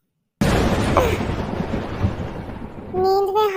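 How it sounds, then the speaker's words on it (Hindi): A sudden loud thunder crack breaks the silence and rolls into a slowly fading rumble. A brief voice comes in at the end. "नींद में हार्ट अटैक आ जाए ऐसी बिजली कड़क रही है।"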